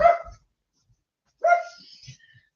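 An elderly 15-year-old dog with mild dementia barks outside in a yard, two separate close barks with a silent gap between them, fairly loud and alone.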